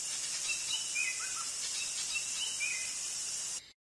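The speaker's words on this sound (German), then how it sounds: "Hier liegt die Zone des tropischen Regenwaldes." Tropical rainforest ambience with a constant high insect buzz and scattered bird calls chirping and whistling at mid distance, steady and fairly quiet, no voices, cutting off near the end.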